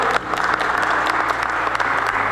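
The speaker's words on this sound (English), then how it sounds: "Let's have a big round of applause," An audience at a TiEcon UP business event applauds steadily, with a dense, loud, even clapping that holds for the whole stretch and no voices above it.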